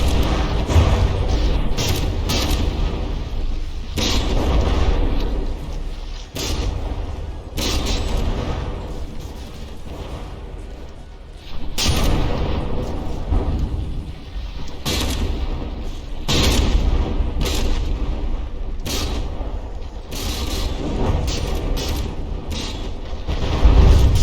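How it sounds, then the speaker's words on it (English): Constant barrage of battleship shells in the naval combat game From the Depths: dense, loud, continuous booming and rumbling with repeated heavy shell impacts and firing over a steady roar, no voices. "Konin is just a constant barrage of shells."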